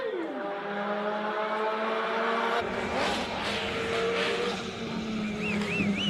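A turbocharged four-cylinder rear-wheel-drive Ford Escort Mark II replica revs hard up a hill climb course, engine pitch climbing through gear changes as it passes close, loud and continuous, with tire noise and a brief voice underneath.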